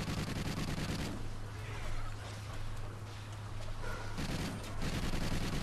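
Pistol fire in a Call of Duty game, heard as a dense, steady barrage of gunfire and rumbling blasts that runs without a break through a short stretch of combat.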